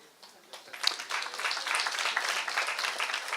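A church audience claps in scattered, rising applause after a teaching prompt, building from a few hands to a steady, fairly close round with no one speaking over it.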